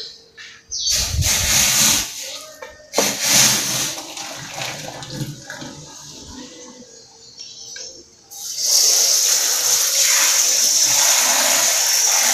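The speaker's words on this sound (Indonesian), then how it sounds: "Kita buangin dulu airnya." Hot water from boiling fatty meat being poured out of a pot, a strong rushing, hissing splash that comes in bursts with brief pauses, then a loud sustained pour toward the end.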